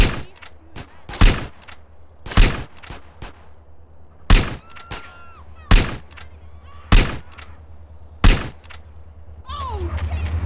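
Gunfire in GTA San Andreas: a string of loud, sharp gunshots at irregular intervals, some in quick pairs, with ringing tails over a low game rumble and no talk.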